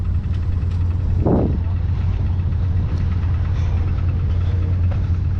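A running Oliver tandem tractor at a vintage horsepower show gives off a steady, loud low engine rumble that holds throughout, with a brief louder swell partway in.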